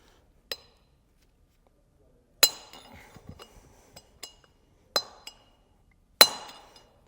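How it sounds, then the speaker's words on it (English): Hammer blows driving a pressed-in bearing race out of a trailer hub, four or five sharp metallic clinks spaced a second or more apart, each ringing briefly with small rattles between, fairly near with no talk. "when you drive that race out, you know, it can actually fall out"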